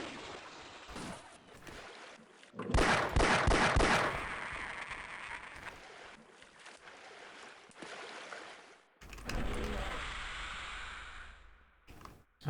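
Gunfire in the Half-Life video game, a few sharp loud shots around the middle followed by a heavier burst and rumbling ambience, with a steady background game drone throughout.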